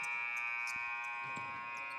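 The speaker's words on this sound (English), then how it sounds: "the buzzer for the end of the first quarter sounds" End-of-quarter buzzer at a men's college basketball game in Singapore drones as a steady, sustained electronic tone across the whole stretch, with faint arena knocks and crowd sounds underneath.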